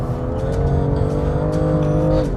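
A 2019 BMW M2 Competition sliding through a corner in second gear at the Ascari track: a loud, sustained engine roar held at steady revs, easing off slightly at the end.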